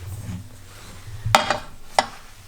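Meat for a Vlora-style stew goes into a hot pan, with a short sizzle and a couple of sharp clanks of a utensil against the pan, close and loud.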